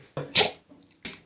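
A person sneezes sharply at close range while cleaning household surfaces, a loud burst followed by a brief quieter tail and another short sharp burst.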